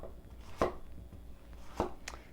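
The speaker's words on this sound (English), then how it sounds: "Then I take my, zucchini, cut it in half, and basically give it a rough chop" A knife rough-chops halved organic zucchini on a cutting board: two sharp, distinct thunks about a second apart, then a lighter tap, close and clear over quiet room tone, with no speech.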